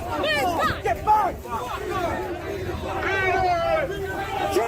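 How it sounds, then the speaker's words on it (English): A protest crowd outside Parliament jeering at Keir Starmer, loud overlapping shouts and yells with boos mixing into a continuous roar, close and dense throughout. "The crowd's response wasn't applause, and it wasn't quiet disinterest, it was sharp, cutting disapproval"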